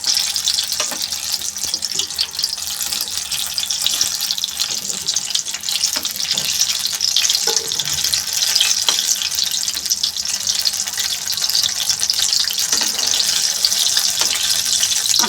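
Tomato pakoda fritters, Surti style with gram flour batter, frying in hot oil, giving a steady, dense hiss and sizzle that runs throughout with small crackles and no talking.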